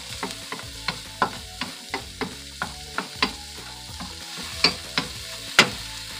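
Garlic and onions fry in a pan with a steady crackling sizzle, broken by regular spoon scrapes and taps roughly every half second.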